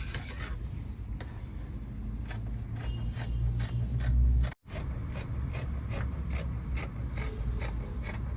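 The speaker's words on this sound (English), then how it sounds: "So this shape, I'll just cut it off." Scissors cutting a pattern shape out of fabric for a kimono bubu dress, a steady close rasping and crunching that goes on without talk and stops once briefly.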